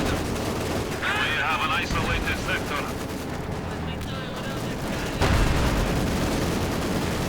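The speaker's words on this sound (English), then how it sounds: "mortar round falling down, field gun rolling up" Mortar rounds and gunfire crackle through a World War II real-time strategy match, with dense overlapping shots and a heavier impact near the end under a commentator's continuous talk.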